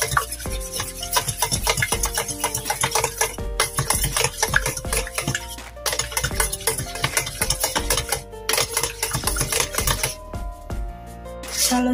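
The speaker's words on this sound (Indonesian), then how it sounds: "masukkan 1 butir telur, ini dikocok dulu ya telurnya" A single egg beaten by hand in a bowl gives rapid, dense rhythmic clicking and scraping, close and loud, with tonal music running underneath.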